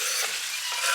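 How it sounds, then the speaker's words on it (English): Onions are tipped into a hot sugary oil mix for homemade onion jam, giving a brief, loud, bright sizzle that stays steady throughout. "And then to the sugary oily mix, we're going to add all of the onions."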